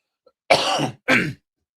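A person coughs or clears their throat twice in close succession, two short, rough, close bursts separated by a brief gap, with no other sound.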